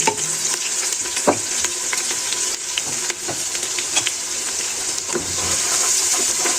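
Onions sizzle and fry in mustard oil in a pan while being stirred, a steady close crackle with scraping stir strokes and no talk.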